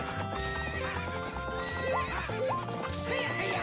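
Horse in the Ocarina of Time video game neighing and whinnying over steady galloping clip-clop hoofbeats, loud and close against game music, no talk.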